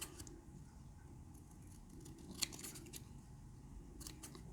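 Scissors cut close by in a quiet room, giving a few faint, brief snips and clicks at irregular intervals over a low background hum, with no talk.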